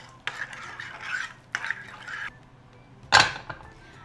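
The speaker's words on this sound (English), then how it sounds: "Now we're gonna mix the spinach mixture that's cooled down into the cheeses." A cooled spinach mixture folded into feta and ricotta in a bowl: three separate bursts of wet, squelching stirring and utensil scrapes, the last one sharpest, with quiet pauses between.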